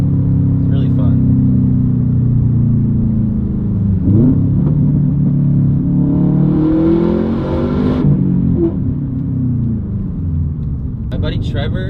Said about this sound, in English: The engine revs up pretty quick when you downshift to rev match